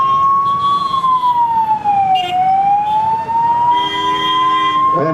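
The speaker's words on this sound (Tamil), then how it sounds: "சைரன் போடாட்டி தெரியாது மக்களுக்கு." An emergency vehicle siren sounding loud and near, a long wail that dips and climbs back up, joined by brief bursts of a harsher horn-like tone toward the end.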